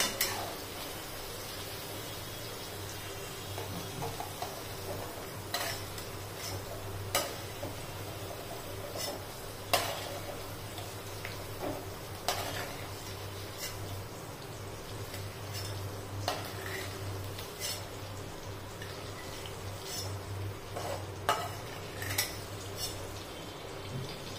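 Fried green chillies for Solapuri mirchu are scooped from a pan onto a plate, with faint scattered clinks of a metal spoon against cookware and soft scraping over a quiet kitchen background, no speech.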